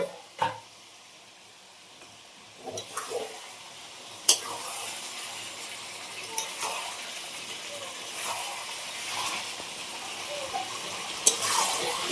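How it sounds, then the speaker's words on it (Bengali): Potatoes and chicken being stir-fried in oil in a pan, a faint continuous sizzle broken by occasional stirring scrapes and a few sharp clinks of a utensil against the pot, close by. "এবারে আলুগুলো দিয়ে কষানো হবে দিয়ে জল দিয়ে দেওয়া হবে"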